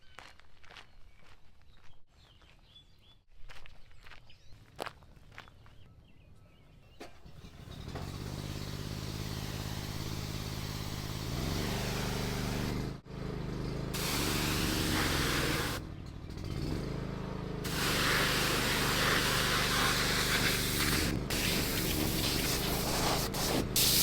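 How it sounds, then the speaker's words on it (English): A pressure washer blasts grime, dirt and grass off the underside of a Great Dane Super Surfer II mower, starting after quieter footsteps and handling noises, then running loud and steady with a couple of short breaks in the spray. "I'm going to pull the pressure washer back out and clean off the rest of the grime and dirt and grass on the bottom of this mower."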